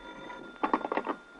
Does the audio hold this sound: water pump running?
no